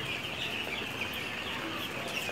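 Chickens on a poultry farm in Bangladesh, a dense flock clucking and calling continuously at moderate volume, with no talking.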